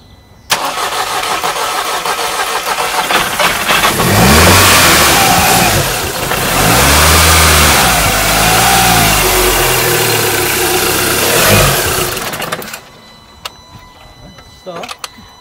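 Audi S3 8P TFSI engine cranks and fires, then idles and is revved in several swelling bursts, loud and close, before cutting off to near silence with a few faint clicks.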